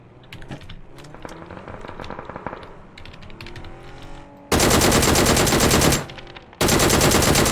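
PUBG gunfire, starting with scattered sharp shots and clicks, then two long loud bursts of rapid automatic fire with a brief gap between them.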